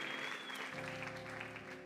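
Applause from a church congregation during a French-language sermon, a dense steady wash of clapping with a sustained musical tone underneath, fairly even throughout.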